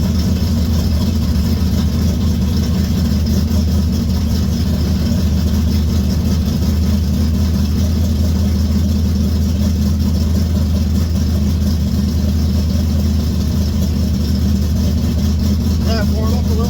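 A Chevrolet Vega engine idles steadily while warming up, a loud, constant low rumble with no change in pace throughout.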